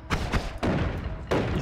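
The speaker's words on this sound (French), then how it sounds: "il se prend son explosion" Explosions in Noita, the pixel-physics roguelike, arrive as a quick run of loud, punchy blasts with thuds and crackling debris, roughly four bursts within under two seconds.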